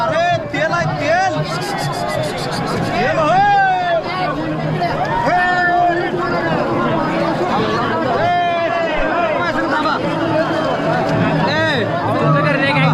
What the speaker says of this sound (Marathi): फुल अशी गर्दी आहे इथं